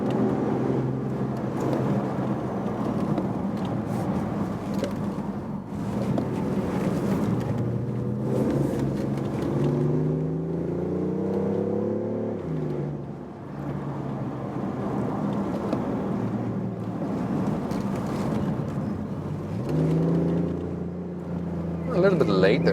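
A BMW i8 Roadster engine revs and swells through a run of corners, pitch climbing and falling with each shift, while someone talks steadily over it.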